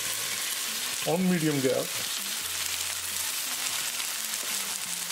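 Matar paneer with cream cooking in a pan over medium gas heat gives a steady, close sizzle that runs the whole time, with a brief spoken phrase early on.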